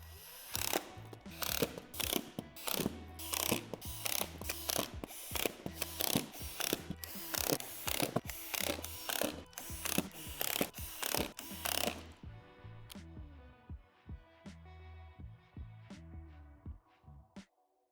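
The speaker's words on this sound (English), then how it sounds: "Secure the floor panels together by screwing through the divots on each edge of the floor panel." Rapid ratcheting clicks from a ratchet driver fastening plastic floor panels of a Lifetime 8' x 10' outdoor storage shed, in repeated bursts of tight ticking, then a quieter stretch of slower, sparser clicks near the end.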